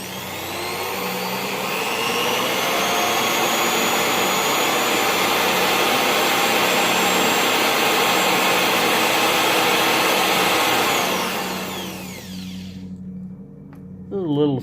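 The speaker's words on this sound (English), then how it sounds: "now I'm using this drill because it gives me variable speed" A variable-speed drill cuts into a lock with a steady, close, high-pitched whirring drone that holds even for about twelve seconds, then stops abruptly and leaves a short quieter tail.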